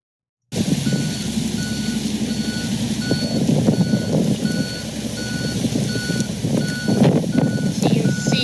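A water truck reverses across a parking lot, its backup alarm beeping in a steady repeating rhythm over a rumbling diesel engine, with occasional hisses and clanks, no talking.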